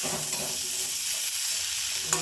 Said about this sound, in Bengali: আলু কাঁচকলা দুটোই ভাজা হয়ে গেছে।